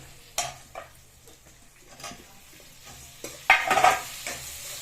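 Tomato goes into a pan of frying brinjal curry and gets stirred, with soft sizzling under several scraping stirs and spoon clinks against the pan, ending in a louder burst of stirring.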